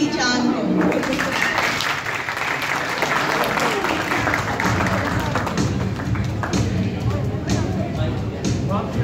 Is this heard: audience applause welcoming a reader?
yes